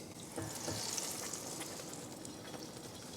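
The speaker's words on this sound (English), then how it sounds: "our pan is nice and hot, so in goes the cornbread mix" Cornbread batter poured into a hot skillet gives off a faint, even sizzle that holds steady for a few seconds with no voices.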